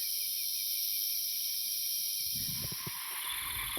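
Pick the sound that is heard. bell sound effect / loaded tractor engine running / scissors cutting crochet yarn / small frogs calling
small frogs calling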